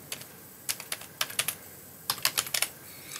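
Keys clatter on a computer keyboard in bursts of quick, close taps with short pauses between, heard alone without talk while typing database code.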